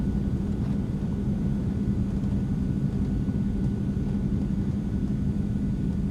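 An Eclipse 550 jet rolls out under heavy braking after landing in X-Plane 11, producing a steady, loud, broadband rumble that continues unbroken with no talking.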